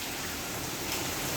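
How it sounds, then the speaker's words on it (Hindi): Steady rain falls in Sargodha as a dense, even hiss of drops on surfaces, close and continuous, with no voices. "वाह बारिश।"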